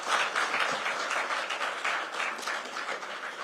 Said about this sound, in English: Let's give him a very warm round of applause for this.